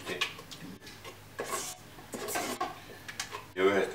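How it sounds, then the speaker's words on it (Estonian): A spoon stirs porridge in a pot, giving irregular scraping and light clinking knocks against the metal, fairly quiet, with a few louder scrapes toward the end and a voice speaking faintly at times. "segame ära veel ilusti"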